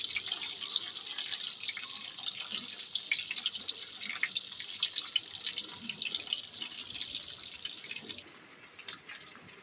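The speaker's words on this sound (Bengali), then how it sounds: "এবার আলুগুলোকে আমি তেলের মধ্যে একটু হালকা করে ভেজে নেব, সাথে দিয়ে দেব সামান্য একটু লবণ।" Potatoes fry lightly in oil with a little salt, giving a dense, continuous bright sizzle with fine crackling pops, steady and moderately soft from start to finish, with no voices.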